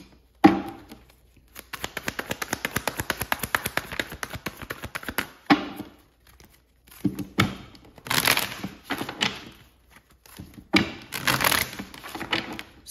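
Tarot cards riffled and shuffled close up in a rapid flurry of papery flicks, followed by scattered card slides, taps and snaps as individual cards are drawn and laid down.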